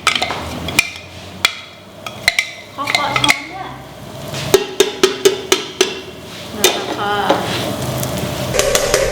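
Food sizzles in a hot pan while a utensil scrapes and clanks against it in repeated sharp strokes, close and loud.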